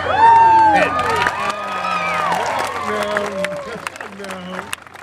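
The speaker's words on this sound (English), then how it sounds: "They weren't supposed to applaud for that." An audience at an alligator wrestling show claps and cheers in a loud burst that tapers off, with children's shouts and whoops on top and someone talking over the crowd.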